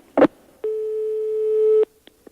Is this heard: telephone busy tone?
yes